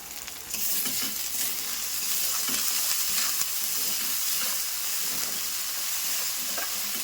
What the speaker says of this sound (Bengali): তারপর হাই ফ্লেমের মধ্যেই এই মশলাটা আমি কষছি।